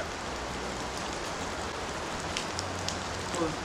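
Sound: dripping rain runoff on sandstone rocks

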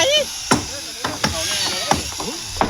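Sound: hammer driving wooden bridge posts

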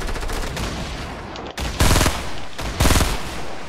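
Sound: submachine gun firing in Fortnite video game

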